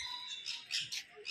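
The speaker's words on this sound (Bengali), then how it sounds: "যেখানে পাখিগুলো বাইরে এমনিই উড়ে বেড়াচ্ছে" Birds call from inside a bird park enclosure in Pelling, Sikkim, with a few short, bright squawks and chirps in quick succession, fairly faint against a quiet background.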